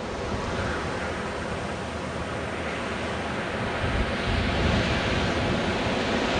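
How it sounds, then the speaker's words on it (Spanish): Ocean waves crash on the shore at Las Loberías, a loud continuous roar of surf that swells slightly toward the end, mixed with wind. "ahí por momentos se arman unas olas gigantescas"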